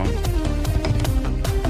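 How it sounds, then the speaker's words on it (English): Synthesizer in the Helltaker video game soundtrack, a loud, dense electronic groove with punchy beats and sustained synth tones, heard alone. "Great sound on the synth."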